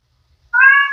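A pet cat gives a single clear, drawn-out meow after a brief silence, close and loud, ending with a slight tail-off.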